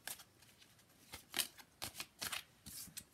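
Playing cards being shuffled in quick, soft riffles and flicks, a series of close, crisp bursts with short pauses between them.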